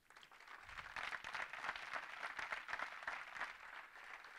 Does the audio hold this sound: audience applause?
yes